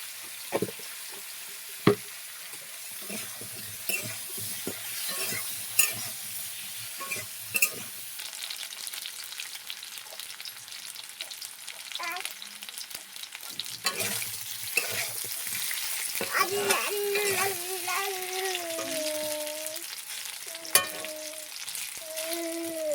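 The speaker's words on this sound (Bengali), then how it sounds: "ভাজা কমপ্লিট হয়ে গেছে। আর একটু ভেজে নেবো, তুলে নেব।" Fish seasoned with salt and turmeric frying in a pan makes a continuous hiss and crackle, with scattered utensil clicks and scrapes and occasional louder pops.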